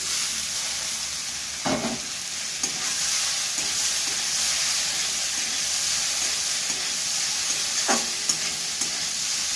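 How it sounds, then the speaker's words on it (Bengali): Pasta tipped into a pan with turmeric and frying, a steady close sizzle and hiss with a few soft stirring scrapes and knocks, no talking. "এবার আমি পাস্তাটা তুলে দিচ্ছি"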